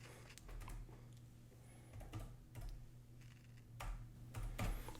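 Quiet computer keyboard typing at a desk, with soft irregular key taps in short bursts over a low steady hum.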